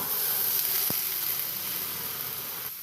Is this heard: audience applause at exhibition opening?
no